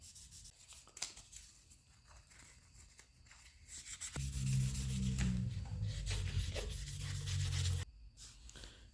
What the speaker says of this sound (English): I'm just going to take and run this lever on this 1000 grit to try and take some of that pitting out